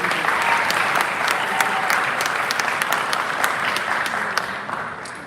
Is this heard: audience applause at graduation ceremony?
yes